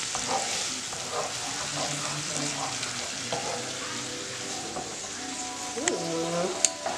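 Food fries with added soy sauce in a pan, a steady sizzle with scraping stirs of a utensil and faint voices in the background.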